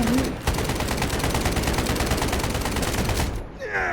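Sustained rapid automatic gunfire in the video game Delta Force, a dense, loud, continuous rattle of shots lasting several seconds before cutting off, with faint voices beneath.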